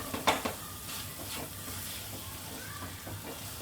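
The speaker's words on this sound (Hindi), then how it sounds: "अब बीच बीच में थोड़ा सा मैश करते जाइए।" Vegetables for veg keema masala are mashed and stirred in a pan, giving soft, irregular scraping and squelching strokes over a low sizzle, with a few sharper knocks near the start.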